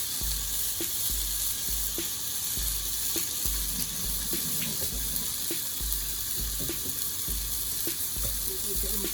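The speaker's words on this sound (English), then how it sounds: "So I'm just washing my hand real quick." Hands being washed under a running kitchen tap while rice with beans and stewed pork is being cooked, a steady close rush of water with small splashes and faint clicks throughout, with no talk.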